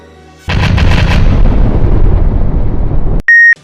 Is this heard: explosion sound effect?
yes